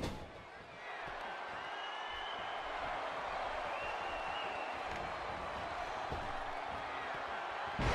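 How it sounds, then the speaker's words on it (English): The arena crowd in the WWE 2K18 wrestling game keeps up a dense, steady roar of cheering, filling the background evenly from start to finish while a commentator talks over it. "This capacity crowd is beside itself."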